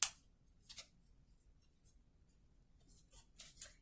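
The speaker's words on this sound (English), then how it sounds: "We're going to take the backing off of that first third of the tape." Paper backing being peeled from kinesiology tape produces brief, faint crackling rips in quiet, a short tear at the start followed by a few soft scattered peeling sounds.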